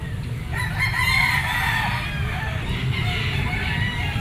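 A Boston Sweater gamecock rooster crows and clucks close by in a continuous, fairly loud stretch, with faint background noise and no talk over it.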